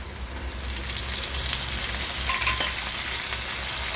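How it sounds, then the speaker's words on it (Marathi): Onion and curry leaves fry in a pan for drumstick curry, a steady dense sizzle like light rain throughout, with a faint clink midway as tomato goes in. "कांदा कढीपत्ता आपला हा भाजत आलेला आहे त्याच्यामध्ये आपण आता टॅमॅटो टाकत आहोत"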